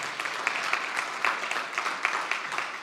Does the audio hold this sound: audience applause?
yes